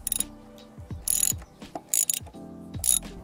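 Ratchet clicking as it loosens the kickstand bolt on a KTM Duke 790/890 motorcycle, coming in several short bursts of rapid metallic clicks separated by pauses, close and fairly loud.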